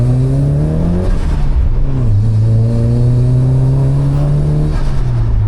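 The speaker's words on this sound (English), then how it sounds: "It has an open diff, and I heard it like, you know, start to spin when I got on it in first right there." A car accelerates hard in first gear, its engine revving loud and close with rising pitch, dropping briefly at a shift, then climbing again steadily.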